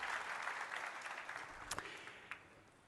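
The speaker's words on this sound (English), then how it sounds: "a big round of applause to the Oslo team" Faint applause from the audience at a Webex by Cisco keynote during Enterprise Connect, honouring a team's demo, tapering off quickly with a few scattered claps and loud taps near the end.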